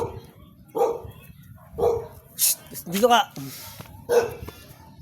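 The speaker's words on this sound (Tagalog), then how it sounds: "Ayan ang golden retriever ko, si Bankers." A pure-breed golden retriever named Bankers barks in a residential subdivision, giving a few separate close barks spaced through the moment while someone talks over them.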